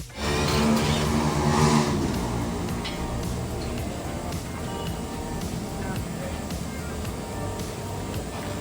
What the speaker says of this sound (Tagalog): Dahil medyo maingay yung sasakyan pag pinaandar mo siya sa mabilis.